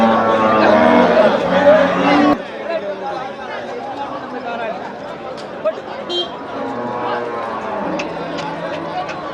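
Cattle low at the Melapalayam cattle market, with a loud moo at the start followed by busy crowd chatter and scattered bustle of the market.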